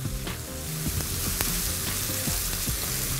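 Garlic and onion frying in a pan with black pepper, a steady close sizzle with occasional crackles and stirring scrapes, no voices.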